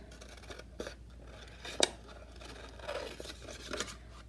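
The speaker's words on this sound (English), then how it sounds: "I'm going to take my scissors and I'm going to cut along those black lines." Scissors snipping through paper along printed black lines, a few soft close cuts and rustles with one sharper snip, quiet and without speech.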